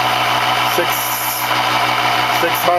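James Zero Force motor running at about 3,660 RPM, a steady whirring hum with constant pitch, close, with a voice briefly heard over it.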